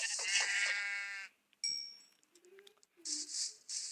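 Sheep in a survival video game bleat several times, a long close call and then shorter ones after a brief gap, with faint clinks between them.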